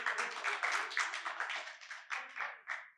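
Audience clapping for performers at a poetry recital: about three seconds of close, steady, moderately loud rhythmic hand claps that fade out toward the end, with no voices over them.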